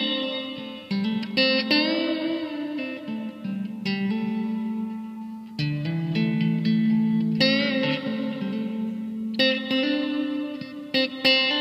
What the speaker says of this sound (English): So listen to this hall reverb, for example.